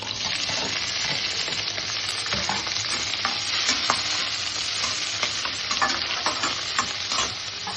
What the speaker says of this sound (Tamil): இப்போ எண்ணெய் ஊற்றிருக்கோம். பட்டை, கிராம்பு தாளிச்சுட்டு பிரியாணி இலை தாளித்து